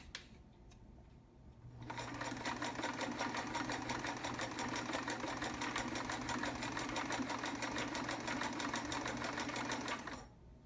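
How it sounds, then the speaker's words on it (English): A vintage Sears Kenmore 158.13200 heavy-duty sewing machine runs a wide zigzag stitch, starting with a hum and settling into a fast, steady mechanical rattle of needle strokes for about eight seconds before stopping, close and moderately loud. "So I'm just going to go to the wide zigzag now and"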